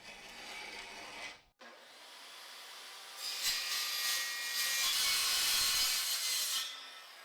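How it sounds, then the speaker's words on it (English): A tool cuts half an inch off a metal motorcycle sissy bar piece for a Honda Shadow chopper, a steady close grinding that breaks off briefly, then resumes louder and brighter for several seconds before stopping. "Just gonna cut a 1/2 inch off this thing."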